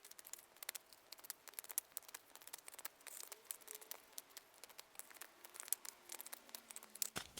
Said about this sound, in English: let's go ahead and do some shuffling